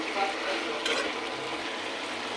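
Lotus stem and flat bean patoori gets stirred in a pan with chopped coriander, a close, continuous sizzle broken by brief scraping and clinks of the spoon.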